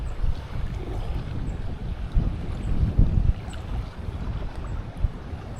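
Wind gusts across a river during fly fishing in North East Victoria, producing a rough, buffeting rush with irregular louder bursts close to the microphone, with no one talking.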